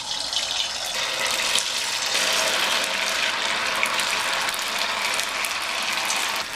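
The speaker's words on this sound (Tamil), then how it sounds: "மாவில் போட்ட காலிஃப்ளவரை ஒன்று ஒன்றா பெரட்டி எண்ணெயில் சேர்த்துடலாம்." Batter-coated cauliflower florets fry in hot oil in a kadai, giving a steady, dense, close sizzle with no pauses.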